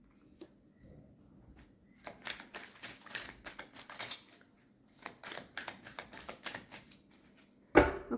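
Tarot cards being shuffled by hand during a reading, heard as bursts of rapid papery riffling and snapping in irregular clusters, fairly close and quiet, with a sharper tap near the end and no talking.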